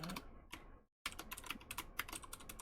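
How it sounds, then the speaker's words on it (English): Rapid typing on a clicky mechanical computer keyboard, a close, dense run of sharp keystrokes that breaks off into a brief silence and then resumes, continuing steadily with no talk. "guys hear my great clicky clacky keyboard?"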